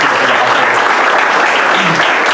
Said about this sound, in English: Let's just give all of them a round of applause.